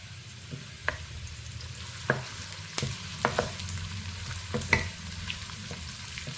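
Chopped onions, about one and a half, sautéing in a pan with a soft steady sizzle, broken by repeated scraping clicks of a spoon stirring them at irregular intervals.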